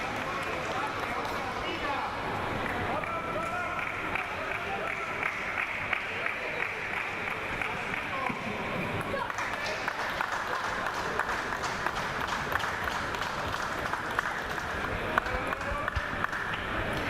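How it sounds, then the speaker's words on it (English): Applause from the crowd at a para table tennis match at the European Para Table Tennis Championships: steady clapping runs throughout, with commentary heard over it. "That gets a warm reception from the crowd"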